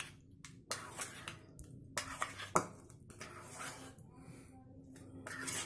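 Potatoes being tossed with spices in a metal pan, heard as scattered clinks and scrapes of a utensil against the pan, fairly faint with brief pauses between strokes.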